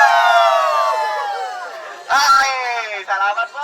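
A crowd at a 2024 opening salvo event shouting a long, loud, unified "woo" together, the cheer fading slightly before a second burst of shouts, close and energetic.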